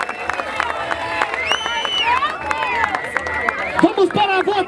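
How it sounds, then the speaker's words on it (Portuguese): A crowd at the grand final of a rap battle claps and cheers, with whistles and shouts over steady clapping and babble, growing more animated near the end. "Palmas pra essa batalha!"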